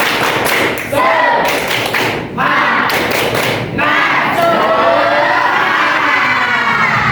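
A group of students performs the Indonesian 'tepuk semangat' clapping chant during an ice-breaking session, loud rhythmic claps and thumps mixed with chanting voices, close and continuous throughout.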